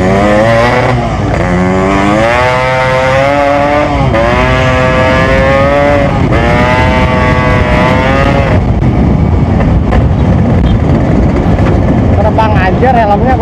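A motorcycle engine revving up through rising pitch sweeps on a test ride, loud and close, with the engine note climbing in repeated surges before settling into road noise under chatter.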